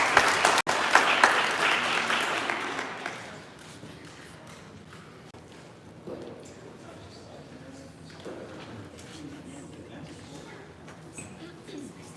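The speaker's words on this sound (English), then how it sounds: "Round of applause." Applause from an audience at a startup accelerator demo day rises loudly for about three seconds, then drops to scattered claps and background murmur with faint voices.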